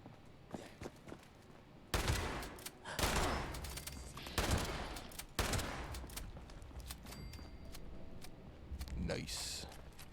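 Shotgun blasts in the video game Fallout 76, several loud bursts spaced a second or two apart with footsteps and clatter between them.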